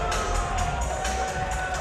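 A fight-night crowd at a boxing event cheers as the round ends. The roar is loud and sustained, a steady mass of shouting and whooping from many people.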